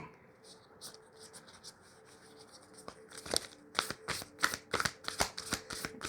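Tarot cards being shuffled by hand, soft riffling and sliding at first, then a run of sharper, rhythmic card slaps and rustles, close up and fairly quiet.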